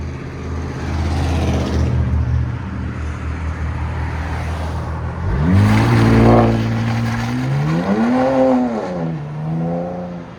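A 2025 RAM 1500 pickup with the 3.0L Hurricane twin-turbo straight-six and straight pipes pulls away, its exhaust swelling from a steady idle into a loud, rising rev that climbs, dips and climbs again as the truck drives off close by.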